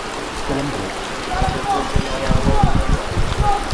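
Rain pours over an outdoor opening ceremony of a Qur'an recitation contest in Pantai Cermin, a steady hiss of drops on surfaces with a voice over a loudspeaker heard faintly in the background.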